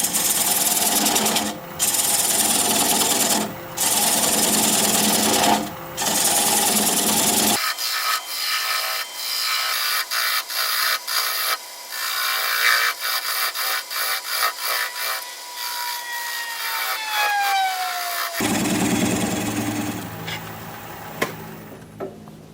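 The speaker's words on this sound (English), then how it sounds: "I'm going to use a 3/8 inch bowl gouge and commence to removing that tenon" A 3/8 inch bowl gouge cuts away the tenon on a sea grape workpiece spinning on a wood lathe at about 600 RPM, a steady scraping, rasping hiss that stays close and loud with shifting pitch.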